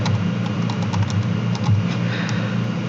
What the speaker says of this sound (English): Now type in your password